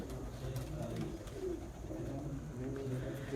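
Racing pigeons coo steadily at a moderate distance in a Punjab pigeon-flying competition, low murmuring calls overlapping against a constant background hum, with no clear talk.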